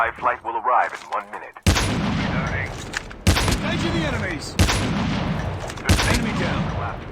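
Loud gunshot blasts ring out in a shooter video game, four heavy reports spaced roughly a second and a half apart with echoing tails, following a stretch of voice at the start.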